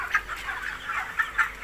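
Broiler chickens in a farm shed cluck in short repeated bursts, with several louder calls rising above a steady background of flock noise.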